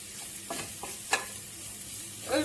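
A spoon stirs boiled okra in a soup pot, several soft scraping strokes against a quiet, steady background hiss, close and moderately loud.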